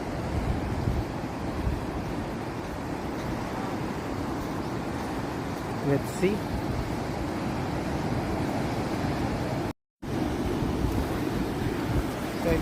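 Strong ocean waves roll in at Tubod Beach on Siquijor, a continuous loud surf wash mixed with wind buffeting the microphone, and a person says a few words partway through.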